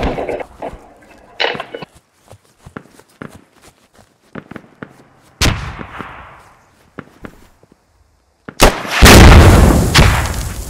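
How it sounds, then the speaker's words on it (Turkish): A rocket launches in the Squad video game with a sharp blast and a long roaring whoosh near the end, after scattered footsteps and distant gunshots. There is little talk over it. "Adam roket atıyor be."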